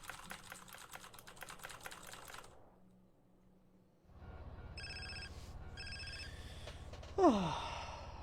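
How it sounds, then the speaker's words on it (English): A telephone rings in the video game GTA San Andreas in two or three repeated bursts of electronic trilling. Typing-like clicks and a quiet lull come before the ringing, and a brief sweeping sound follows it. "I like how I have to sit here and listen to the phone call ring now"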